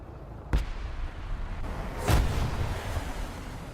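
Tank cannon fire in War Thunder, two heavy booming shots about one and a half seconds apart over a steady rumbling engine drone.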